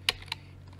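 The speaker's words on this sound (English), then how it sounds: "let's get some space to type here" Two quick clicks on a computer keyboard, close and distinct, then quiet with a low electrical hum.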